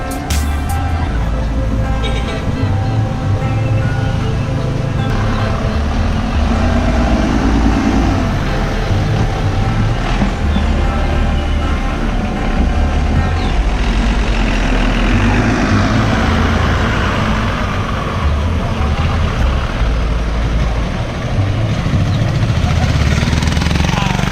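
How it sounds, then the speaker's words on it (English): Close, loud engine noise, steady throughout, comes from a 1955 Chevy fitted with a Toyota motor on a street in Cuba, with a dense rumble and traffic texture, and some voices mixed in. "1955 Chevy with a Toyota motor."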